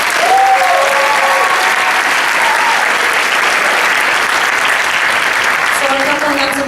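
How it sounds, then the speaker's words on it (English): A middle school audience at a regional honor choir concert breaks into sustained, dense applause that fills the hall at a steady loudness, with faint voices rising briefly near the start and end. "So let's applaud that first."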